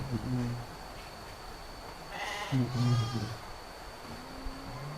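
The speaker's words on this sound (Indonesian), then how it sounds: "Nah, ini domba-domba untuk penggemukan atau fattening." Sheep kept for fattening on a modern farm bleat a few times, near and moderately loud, over a rough steady background noise.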